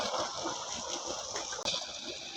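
Water falling at a cold, deep fishing spot in a village, a soft steady rushing hiss, faint and continuous throughout.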